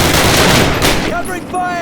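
Rapid gunfire in the Call of Duty World War II campaign at Camp Toccoa, a dense, loud burst of automatic shots that thins toward the end, with ringing tonal echoes and faint voices behind it.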